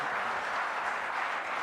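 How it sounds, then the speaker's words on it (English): An audience at a lecture on computational guidance for complex space missions claps in a steady, dense wash of applause, close and fairly loud throughout. "let us give a huge round of applause for his initiative"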